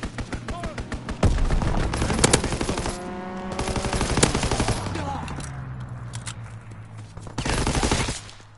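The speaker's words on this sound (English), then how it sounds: "Strafing run inbound." Bursts of rapid machine-gun fire from an aircraft strafing run in a World War II shooter game, loud and close, with overlapping rattling volleys and a brief lull mid-clip.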